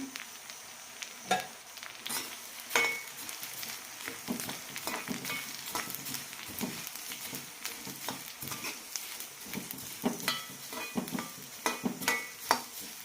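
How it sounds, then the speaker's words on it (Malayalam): Coriander seeds and curry leaves roasting in a teaspoon of oil in a pan over low to medium flame: a steady soft sizzle with frequent scraping stirs and light clicks, close and without talk. "ലോ ടു മീഡിയം ഫ്ലെയിം മാറി മാറി ഇട്ട് വറുത്തെടുക്കാം"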